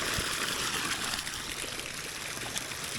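Water pumped into an above-ground pool makes a steady, continuous rushing trickle, even in level throughout with no breaks.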